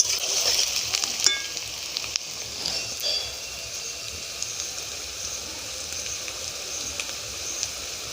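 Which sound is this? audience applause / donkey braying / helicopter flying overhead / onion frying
onion frying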